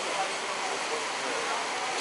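A rising tide washes over the reefs at a beach in Maceió with a broad, steady rush of surf that stays continuous and fairly loud for the whole stretch, with no other distinct sounds.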